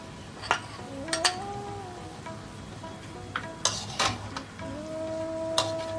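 Water spinach stirred with rice flour in a pan, a soft sizzle under repeated scraping and clinking of a utensil against the pan, close and uneven.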